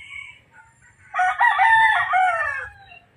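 A pure Raptor Sweater gamefowl rooster crows once, a loud, clear, drawn-out call close by, preceded by a faint shorter call and low background rumble.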